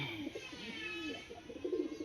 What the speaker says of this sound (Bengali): সব এখানে যা আছে সব ম্যাড্রাস পায়রা